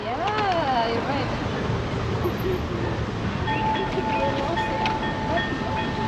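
A green-man pedestrian crossing signal on a street in Tahiti, French Polynesia, giving a steady high electronic tone over loud traffic and outdoor noise, with people talking nearby.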